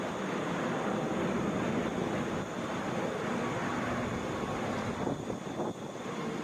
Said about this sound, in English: that's a Boeing 737 that just landed